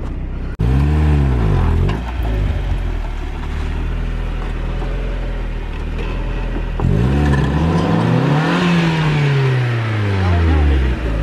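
A Miata's engine revs at full throttle on a rocky off-road trail, rising loudly in two strong upward sweeps with a steady strained drone between them, heard close up, with some talk over it.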